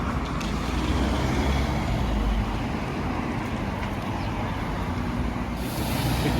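A wood lorry drives past on a town street in Aviemore, Scotland, a steady low rumbling engine and road noise that swells and holds at moderate distance, mixed with general traffic hum.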